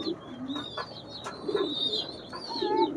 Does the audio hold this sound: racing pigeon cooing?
yes